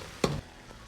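Doubanjiang and fermented black beans hit hot oil with ginger and garlic in a wok, giving one brief loud sizzle that quickly settles into a faint, steady fry.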